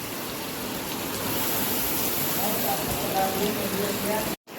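Steady evening rain falling in a village setting, a dense even hiss of drops close by that continues throughout before cutting off abruptly at the end.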